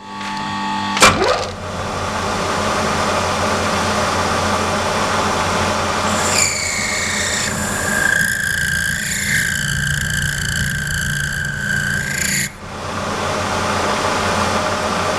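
A lathe cuts a groove in a brass coupling, the steady motor hum joined by a sharp metallic squeal and chatter from the tool for several seconds before easing back.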